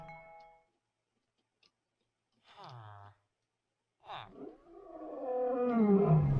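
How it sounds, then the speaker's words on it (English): A giant bird in the game RLCraft lets out a deep, rising roar that swells loud near the end, after a few short, quiet animal calls separated by silence. "And that's just a giant bird."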